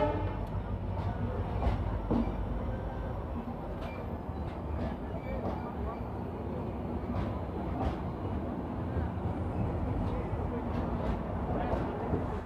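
The Uttarbanga Express rolls steadily after leaving Cooch Behar, heard from a general-class coach, with a low rumble and periodic rhythmic clacks of wheels over rail joints, sustained and close.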